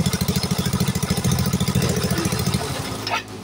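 A Yamaha Mio Sporty scooter engine idles with a rapid, pulsing putter for about three seconds, then abruptly dies after a battery terminal is pulled, leaving near silence.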